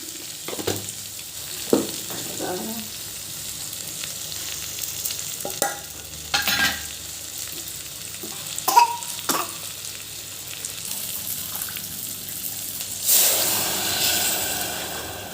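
Tempering sizzles in hot oil for spinach dal, a soft crackling fry broken by scattered stirring clinks, then a louder hissing burst near the end, with no talking.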